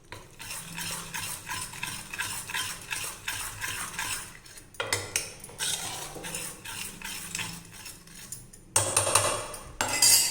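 A spoon stirs cooked spinach dal (palakura pappu) in a pot, with rhythmic scraping and clinking strokes close by and a few louder scrapes at the end.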